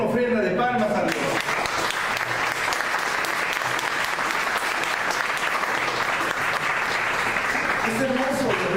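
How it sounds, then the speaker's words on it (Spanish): A church congregation breaks into loud, sustained applause that rises after a moment of talk and fills most of the clip, then eases as a voice returns at the end. "Den una ofrenda de palmas a Dios."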